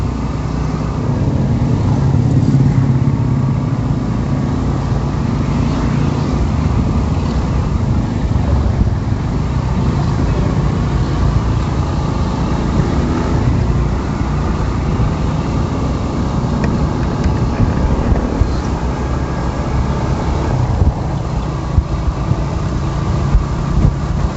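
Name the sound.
motorcycle riding on road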